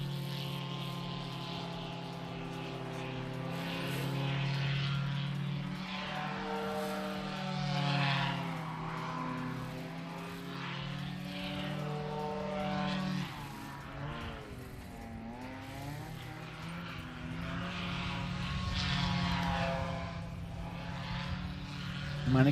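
Paramotor flying a slalom course at a world championship competition, its propeller engine droning steadily at moderate distance with rising and falling pitch as it turns and passes, the buzz continuous throughout.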